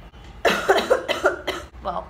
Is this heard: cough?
yes